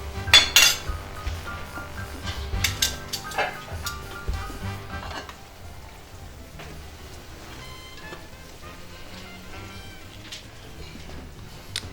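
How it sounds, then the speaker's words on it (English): Dishes and cutlery clink as shrimp pasta with fettuccine and whole wheat spaghetti is plated, a cluster of bright, close clinks early on that fade into quiet kitchen background. "Alright, now I'm about to plate."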